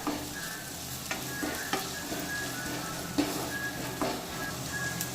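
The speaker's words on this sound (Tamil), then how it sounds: "இப்போ அதை நல்லா கிளறி விட்டுக்கலாம்." Pasta seasoned with garam masala and chilli powder stirred in a sizzling pan, a steady frying hiss broken by irregular scrapes and clicks of the spoon against the metal, close up with no voices.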